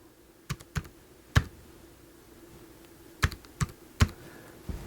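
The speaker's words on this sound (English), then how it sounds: "So there's my keyboard, a Logitech tablet keyboard." Typing on a Logitech tablet keyboard while setting up a Kyocera DuraForce Pro 2 rugged smartphone: a handful of sharp, sparse key taps spaced irregularly over a quiet room background, close and clear.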